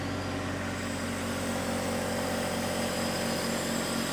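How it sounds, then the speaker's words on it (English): A John Deere 1025R compact tractor's engine runs steadily under hydraulic load, a constant loud drone with a low hum and no pauses or speech. "You can listen to the tractor"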